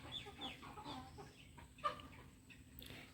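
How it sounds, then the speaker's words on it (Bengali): Chickens feeding among pigeons and pecking at each other, giving soft, scattered clucks and small bird calls with occasional pecking taps, faint and close against a quiet background. "কবুতর মুরগি সবাই মিলে খাচ্ছে, আবার ঠোরাঠুরিও করছে।"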